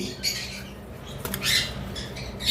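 Yellow-sided and pineapple conures give several harsh, shrill squawks in short bursts, close and fairly loud, with quiet gaps between them.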